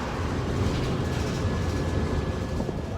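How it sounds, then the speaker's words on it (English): A train rumbles along steadily nearby, a continuous loud low roar of rail noise with a faint high tone running through it, heard on a cycling trip from Seattle toward Portland. "I honestly might make this train."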